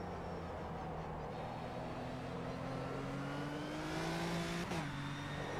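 A Nissan 370Z GT4 race car's engine in the rFactor 2 racing game, a continuous droning note whose pitch climbs steadily as it accelerates, then drops sharply at a gear change near the end before rising again.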